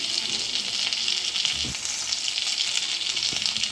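Fried potatoes sizzle loudly in a pan with whole garam masala, green chilli paste and ginger paste, an unbroken bright frying hiss close up with a couple of faint stirring knocks.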